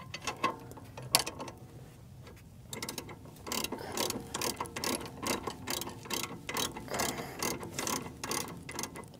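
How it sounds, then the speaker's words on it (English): A ratchet wrench tightens the lower strut bolt on the front suspension of a Mercedes W205, its rapid clicking pawl running in repeated bursts close up, with short pauses between strokes. "Tighten up our lower strut bolt here."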